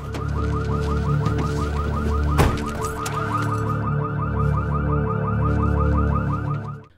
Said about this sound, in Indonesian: membunyikan alarm keamanan